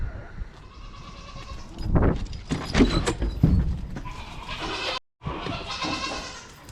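Goats bleat several times close by, loud wavering calls over a shuffling background, with a short silent break near the end.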